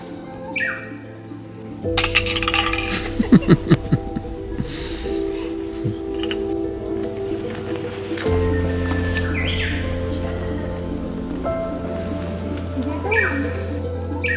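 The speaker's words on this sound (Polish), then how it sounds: "ptaszki śpiewają, słoneczko poranne świeci" Birds chirp and call intermittently in the background of a morning park in Arashiyama, Kyoto, while a person laughs and low steady hum fills the space outdoors.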